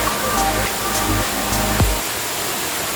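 Hidden waterfall in forest near Bangalore, a dense, steady rushing roar of falling water filling the whole clip, close and loud, with a brief low thump partway through.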